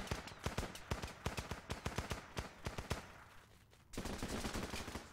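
Light machine gun fire in the video game Running With Rifles, loud rapid bursts of shots in quick succession that trail off briefly, then give way to a denser, continuous roar of fire, with no talking.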